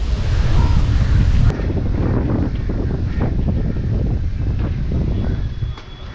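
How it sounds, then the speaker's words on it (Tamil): Strong sea wind buffets the microphone at a boat house near the beach in Pondicherry, a loud, continuous rumbling gust with faint surf behind it and a brief quieter dip near the end. "கீழே இருக்கும்போது நல்லா சின்ன காற்று அதிகமாக வீசும்"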